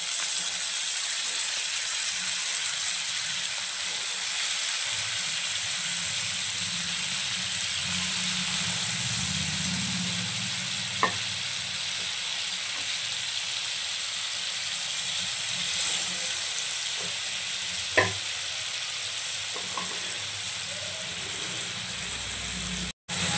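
Mutton boti pieces sizzle in hot masala with a steady, even hiss that holds for the whole stretch, broken by a few faint clicks and pops, and no voices.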